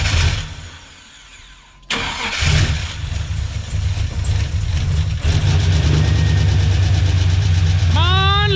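A supercharged LSA 6.0L engine turns over, catches and settles into a loud, steady idle with a rumbling drone close by. Voices talk briefly over the running engine.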